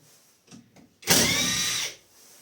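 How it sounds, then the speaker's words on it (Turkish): A Catpower 4226 cordless driver drives a trapezoidal screw into wood in one loud, close whir lasting about a second, after a couple of soft taps. "Önce şöyle bir trapez vida deneyelim şu ağaca."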